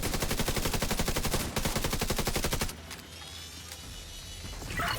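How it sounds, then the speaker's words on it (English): Shotgun fire in a video game, a rapid, evenly spaced string of loud shots for almost three seconds, then a quieter stretch of background ambience. "I'll actually use my shotguns here"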